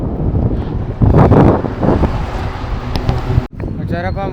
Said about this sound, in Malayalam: കാറ്റടിച്ചിട്ട് വണ്ടി നീങ്ങണേ ഇല്ല.